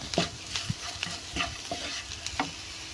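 Spices sautéed in a pan with chicken masala and pepper powder, no chilli powder, a spatula stirring and scraping in repeated strokes over a steady low sizzle, close and alone.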